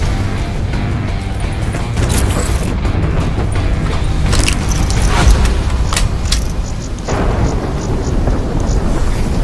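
Thunderstorm in the video game Call of Duty: Black Ops III, with a steady wash of rain and wind under repeated heavy thunder rumbles and booming cracks, loud and continuous throughout with no voices.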